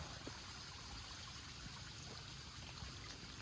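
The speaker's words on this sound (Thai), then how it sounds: "น้ำก็ไหลตลอดนั่นนี่น้ำตกเพิ่น" Water pours and rushes steadily from a small waterfall behind a temple at Ban Na Ang, a constant faint splashing hiss with no voices.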